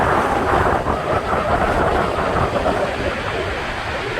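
Niagara's American Falls roars in a thick, steady low rumble beneath gusting wind buffeting the microphone in the mist, loud and close, with no voices.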